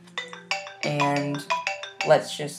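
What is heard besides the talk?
mobile phone ringtone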